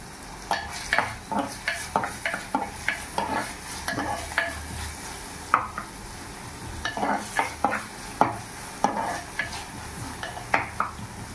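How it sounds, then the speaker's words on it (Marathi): Chopped onion sautéing over a medium flame in a pan, a steady close sizzle broken by a long series of rhythmic scraping stirs, with no voices. "कांदा आपला सॉटे करून घेऊया."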